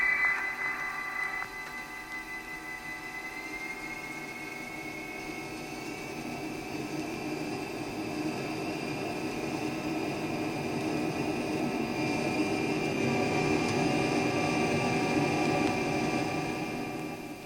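A Boeing 707 jet airliner at Idlewild rolls for takeoff, its engines building from a steady whine into a broad, rising roar that swells and holds loud toward the end.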